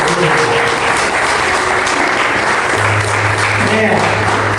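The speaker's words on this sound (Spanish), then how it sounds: "Denle un aplauso al Señor Jesucristo." A church congregation breaks into loud, sustained applause, a dense wash of clapping that fills the room throughout, with voices and a low organ-like tone rising beneath it.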